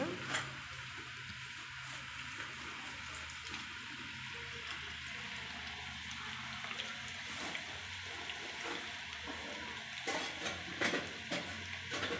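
Onion pakodas deep-frying in hot oil, a steady soft sizzle and crackle with scattered small pops, fairly quiet and continuous throughout.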